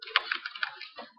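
Quick tapping on a computer keyboard, a short run of close, crisp key clicks at an even pace with a slight pause near the end, no voices over it.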